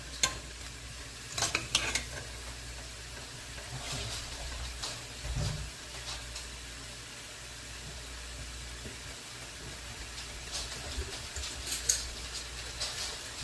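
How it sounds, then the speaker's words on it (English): Chili con carne cooks in a pot with garlic, sizzling steadily close by. Scraping stir strokes come in bursts around 1–2, 5.5 and 11–12 seconds over the continuous frying, and there is no speech. "We're going to stir this, let it cook another minute before we add the spices."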